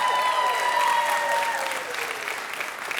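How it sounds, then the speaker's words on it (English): Keynote audience at Salesforce Dreamforce 2022 applauding, sustained crowd clapping with tonal music or feedback lines running underneath. "you can clap during this"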